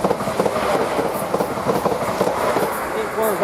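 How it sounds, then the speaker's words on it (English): A Greater Anglia train passes through Witham station with a steady rumble and rhythmic clickety-clack of wheels on rail joints, close and fairly loud, while a voice talks over it. "And the first train should be a passing Greater Anglia train."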